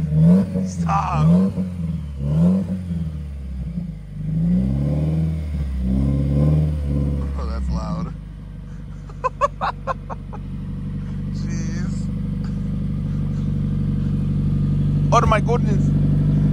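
A Subaru WRX with its entire exhaust removed revs hard up close in several raw bursts, then settles into a loud, steady idle drone, with people talking over it.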